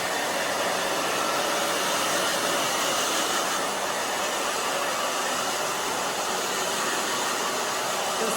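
A hair dryer blows steadily and loudly throughout, a constant airy whoosh while drying the back of a short pixie haircut, with no talking over it.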